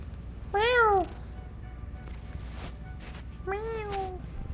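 A cat meows twice, each a clear rising-falling cry a few seconds apart, close by in a quiet room with faint background hum and no talk.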